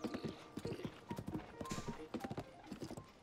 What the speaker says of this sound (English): Oh, horse is mad.